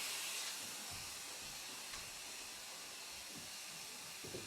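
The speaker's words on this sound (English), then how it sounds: "That was a hose retracting into a raceway." A central vacuum hose retracts into a wall raceway with a loud, steady rushing hiss of airflow that holds for several seconds, close and alone, with faint low thumps near the end.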